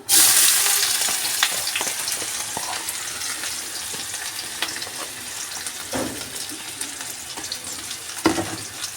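A large chopped onion drops into hot oil with a sharp burst of sizzling that slowly settles into a steady crackle, with a few louder spatters and stirring scrapes nearby.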